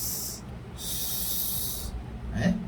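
A voice imitates a hissing snake-like "s" sound, given as a drawn-out sibilant hiss in two long bursts, followed by a short breathy hiss at the end, with no speech.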